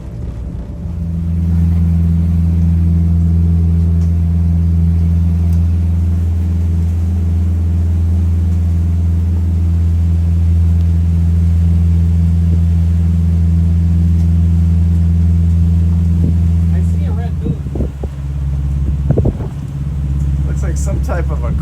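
Engines of a 70-foot Viking yacht idle steadily as the boat maneuvers in its slip, a deep, even rumble held for most of the span before changing pitch near the end with a few knocks.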